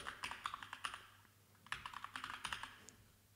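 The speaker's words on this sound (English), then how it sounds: "So let's type that in." Typing on a computer keyboard: quiet, close clusters of quick key clicks in two short runs, separated by a brief pause, with no speech.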